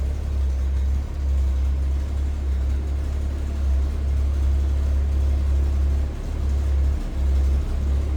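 A 1964 Ford Falcon Futura convertible's inline-six runs with a deep, steady low rumble close by, the throttle swelling and dipping slightly a few times with no talking.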